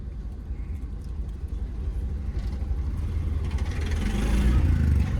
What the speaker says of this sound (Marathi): गाड़ी चला रहा हूँ